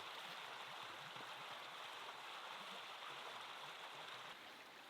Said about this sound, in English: the creek's flowing